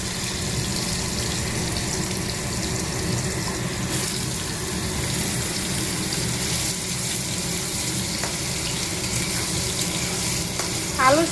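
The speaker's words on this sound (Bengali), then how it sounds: "সয়াবিনের জন্য আলুটা ভেজে নেবো একটুখানি হালকা" Potatoes frying lightly in oil as a start for a soybean curry make a continuous dense sizzle throughout, with faint scraping near the end.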